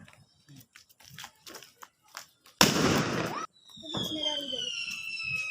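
A sharp Diwali firecracker bang bursts out with a loud, crackling blast lasting under a second, surrounded by nearby voices chattering in Tamil before and after.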